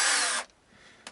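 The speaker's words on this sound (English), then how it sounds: "So let's just hope the drill keeps going." Hand drill boring through a wooden guitar body, a loud close whirring grind for under half a second that cuts off abruptly, followed by a faint knock.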